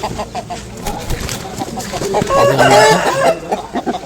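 Loud, close roosters crowing amid clucking hens and a busy crowd murmur at the Sankranti market in Bairreddipalle, where fowl are sold, the crowing swelling in the middle.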